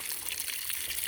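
Pond water runs steadily through an orange hose siphoning into a pre-filter, a close, continuous splashing trickle with no talk.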